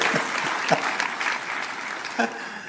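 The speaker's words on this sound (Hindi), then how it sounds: "चलो प्रोफेसर साहब के लिए तो ताली बजा दो" Audience applause at a university event in Delhi, a steady wash of clapping from a crowd that lasts the whole moment, with brief voices and cheers rising through it.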